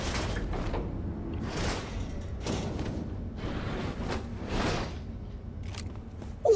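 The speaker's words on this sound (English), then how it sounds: "Just let me unlock the door." A door unlocking and sliding open in Cyberpunk 2077, a sequence of mechanical whooshes and clunks, close and steady, repeating several times with a sharp click at the end and no talking.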